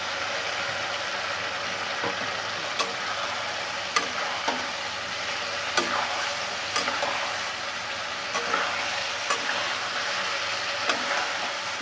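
Raw spice paste of mustard, cumin and green chilli fries in a pan for fish curry, sizzling steadily while a spoon scrapes and taps against the pan at irregular intervals.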